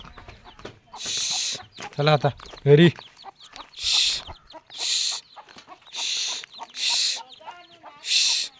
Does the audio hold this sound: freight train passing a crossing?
no